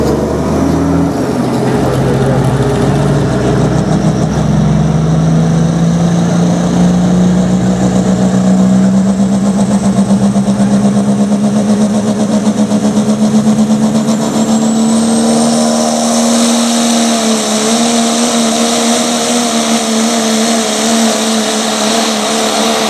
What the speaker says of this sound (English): as the semis make their way by in front of you.